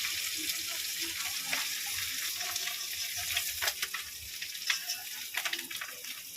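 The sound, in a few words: fish roe frying in oil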